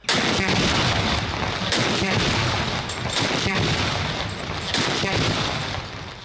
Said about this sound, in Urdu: وفاقی اور صوبائی دارالحکومتوں میں توپوں کی سلامی سے دن کا آغاز ہوا